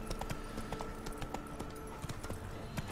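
Horse hooves in The Witcher III beat out a quick, rhythmic clip-clop gallop, fairly soft and steady through the short stretch, with no speech over it.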